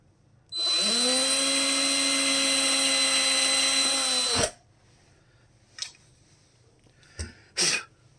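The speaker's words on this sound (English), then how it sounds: "Make a place for the drill bit to start. Take my 5/64 drill bit." A small power drill with a 5/64 bit whines at high speed for about four seconds drilling a pilot hole in a Telecaster-style guitar, loud and close, then stops, followed by a few faint clicks and scrapes.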